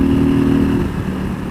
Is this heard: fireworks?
no